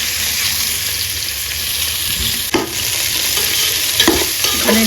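Eggplant slices frying in oil in a pan during home cooking, a steady close sizzle throughout with a few brief clinks and stirring knocks near the middle and end.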